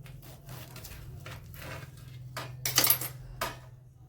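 Knife cutting through a crisp deep-fried bread pakora on a plate, heard as a few close scraping crunches and a sharp clink of metal on the dish, with no talking.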